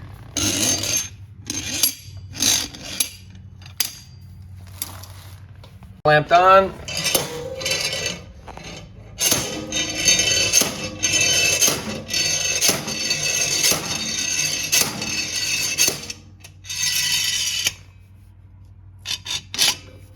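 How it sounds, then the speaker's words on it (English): Sharp metallic clanks and knocks repeat irregularly as a homemade slide hammer pulls an axle seal from a Troy-Bilt Super Bronco riding mower, with scraping and rattling between hits and a brief spoken remark. "take a slide hammer, claw hammer, whatever, and just pop that seal out"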